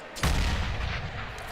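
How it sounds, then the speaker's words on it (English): Grenade exploding in the video game CS:GO, a single loud, close boom with a sharp onset that rolls off into a long rumbling tail. "Good nade there by CTs."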